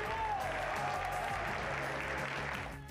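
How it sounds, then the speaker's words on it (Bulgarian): An arena crowd at a K-1 kickboxing event applauds for a fighter in the blue corner, with steady dense clapping filling the whole stretch and a faint tonal sound drifting through the start. "Моля вашите силни аплодисменти за боеца в синия ъгъл, Симеон Наковски!"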